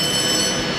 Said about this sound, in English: And of course when you do that, the phone rings.